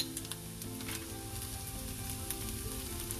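Onions frying in a pan with turmeric for a masala dosa potato filling, a steady close sizzle with faint crackles throughout.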